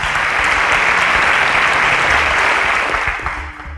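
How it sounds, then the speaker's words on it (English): A live-stream audience applauds a student named Habib, who is heading into civil engineering: dense, steady clapping that stays loud for several seconds, then thins and fades near the end. "A round of applause for Habib"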